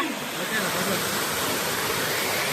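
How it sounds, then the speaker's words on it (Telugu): Steady, dense rush of falling water at the Edu Bavulu waterfalls, a continuous broadband roar that stays close and loud throughout, with no breaks. "వాటర్ ఫాల్ అండి ఇదిరా మనగాడ వాటర్ ఫాల్స్ రా"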